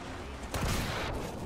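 A sudden heavy tank cannon boom cracks out midway in War Thunder, followed by a rumbling tail and a second softer blast, amid steady engine-like background noise.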